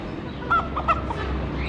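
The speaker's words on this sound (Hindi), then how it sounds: "आगे मेरे पास आगे देसी मुर्गी है।" Desi chickens cluck and squawk in a few short bursts over a steady low background hum, close by.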